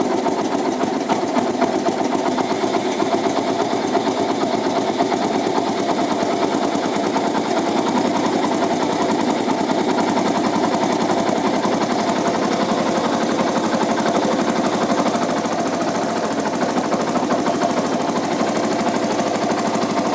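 A Yamaha FZ16 motorcycle engine idles steadily and loudly, a rapid even putter that runs without pause from start to finish.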